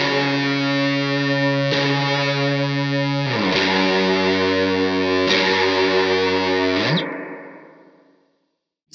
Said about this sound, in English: you can hear the difference that the fuzz is doing to that tone